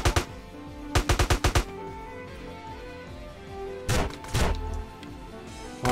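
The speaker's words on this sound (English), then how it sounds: "Dude, it's the shotgun!" Shotgun fire in GTA: San Andreas: a rapid burst of five or six loud blasts, then a pause with background game noise, followed by two or three more heavy booming shots.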